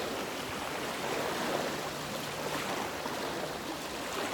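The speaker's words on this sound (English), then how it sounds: "nice waves here." Ocean waves at sunset produce a continuous, even wash of surf noise, steady and moderately distant, with no talking over it.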